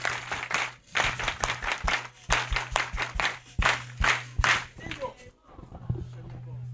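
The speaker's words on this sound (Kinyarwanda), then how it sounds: "Muyimpere icyubahiro n'amashyi ya speciale." A congregation at a church prayer gathering claps in quick, rhythmic bursts that rise and fall, with voices mixed in among the claps before the clapping thins out near the end.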